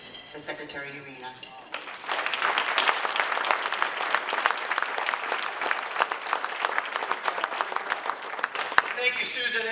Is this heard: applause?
yes